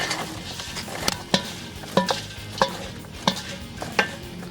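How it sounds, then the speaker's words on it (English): Freshly popped black popcorn stirred in a pot, with a series of regular scraping, rattling strokes against the metal roughly every half second, close and fairly quiet over a faint background hiss. "Let's give it a stir."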